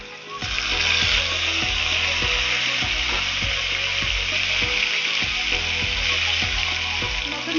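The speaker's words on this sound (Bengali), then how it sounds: "পেঁয়াজ দিলাম পেঁয়াজটা লাল লাল করে ভেজে নিলাম লঙ্কা বাটা" Onions and chilli paste sizzle loudly in oil for a fish curry, a dense continuous frying hiss with rhythmic scraping and knocking of a spatula against the pan, close up and without speech.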